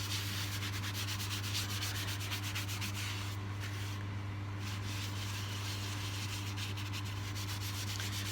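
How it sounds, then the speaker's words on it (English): Yorkshire grit abrasive rubbed by hand onto a turned wooden bowl with the lathe off, a steady close scratchy rubbing over a constant low hum, continuous and without talk. "I'm going to put a bit of the Yorkshire grit on"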